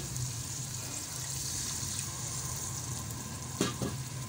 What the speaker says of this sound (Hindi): इसको 10 मिनट अच्छी तरह इसकी भुनाई करेंगे